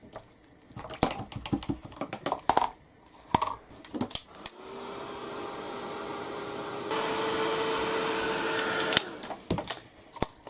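A heat tool blows with a steady whirring hiss for several seconds as it dries a steampunk mixed media canvas, with handling taps and knocks before and after.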